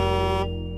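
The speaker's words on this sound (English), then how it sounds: "It's the sound of a big truck blowing its horn." A big truck's horn blares in one loud, steady, harmonic-rich blast that cuts off partway, leaving a quieter lingering tone.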